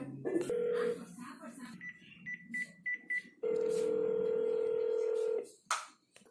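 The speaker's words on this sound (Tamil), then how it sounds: "போலீஸ் அங்கிளுக்கு ஃபோன் பண்ணுங்க இதோ பண்றேன்" A telephone is dialed to call the police: a short run of distinct keypad tones, then a long steady ringing tone that stops abruptly, with brief voices in between.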